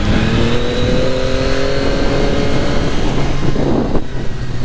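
A Yamaha MT-09 motorcycle engine accelerates loudly and close by, its pitch climbing steadily through the gears with a raspy exhaust tone and no voices over it.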